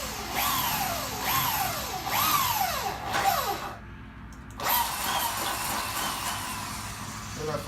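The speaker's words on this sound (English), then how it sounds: "With our first hole, we're going to drill holes on both sides, our pre-holes." Power drill boring pilot holes while a light bar is mounted on a truck: several rising whirs in quick succession, a brief pause, then a sustained close, loud drilling whine.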